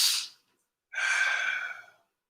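Breathing during a yoga pose: a short exhale fades out, then after a pause a long, airy breath sounds close and clear for about a second in a quiet room.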